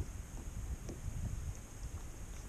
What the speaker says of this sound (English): We do have a little bit of wind